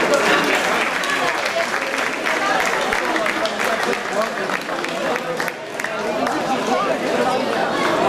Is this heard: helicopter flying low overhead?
no